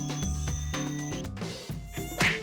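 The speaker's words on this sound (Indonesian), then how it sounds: "Nyamuk memang menjengkelkan." A cartoon mosquito's buzzing whine, set against bright musical tones, with sharp stops and shifts as the buzz moves around and grows louder near the end.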